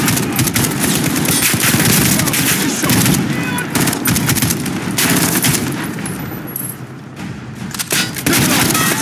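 Intense combat gunfire in a street battle, with dense overlapping bursts and rapid shots that stay loud and continuous throughout, nearly masking occasional shouting voices.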